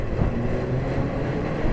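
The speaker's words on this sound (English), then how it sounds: "You prepare by extending your auger, then you turn on the PTO." Tractor PTO driving the unloading auger of a grain trailer, a loud continuous mechanical drone and rumble with steady churning texture throughout the short stretch.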